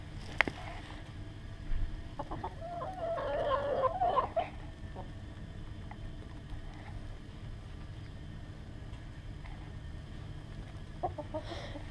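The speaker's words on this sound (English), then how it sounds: "That rooster right there, I don't really love him. He's a jerk. You hear him?" A rooster outdoors during a January quail hunt lets out one drawn-out crow at moderate distance, with a few soft clucks before and after over a low rumble of wind.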